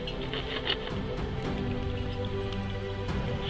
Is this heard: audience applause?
no